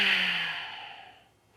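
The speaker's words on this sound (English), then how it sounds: "I like to do UJJAYI breathing." A single long ujjayi exhale through the nose, a soft airy rushing breath that starts strong and fades out over about a second, alone with no talk.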